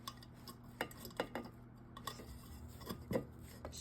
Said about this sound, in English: Scrape it out real good, you know?